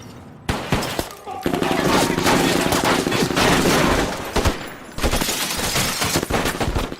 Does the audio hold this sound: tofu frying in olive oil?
no